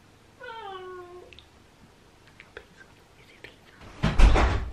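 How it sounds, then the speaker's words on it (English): A cat meows once, clear and fairly close, a drawn-out call with a falling pitch, followed by quiet indoor rustling and then a louder burst of clatter near the end. "Cat meowed."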